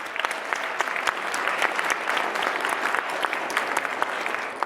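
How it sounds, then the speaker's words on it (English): Audience applause at a talk on storytelling, a steady dense patter of many hands clapping throughout, fairly close and even in level. "Give yourselves a round of applause for practicing."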